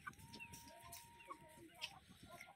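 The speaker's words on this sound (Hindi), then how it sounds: "ये यहाँ पे मुर्गे चारा खा रहे हैं।" Chickens and roosters clucking around a coop in a hill village in Uttarakhand after rain, scattered short calls near and far over a busy rural background, with faint human voices in places.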